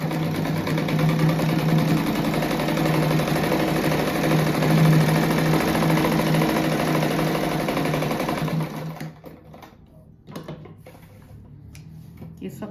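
A sewing machine stitches fabric scraps for a patchwork crazy rug, a steady close mechanical whir with rapid needle rhythm running for most of the stretch, then stopping, leaving faint handling sounds and a quiet room; a voice speaks over it.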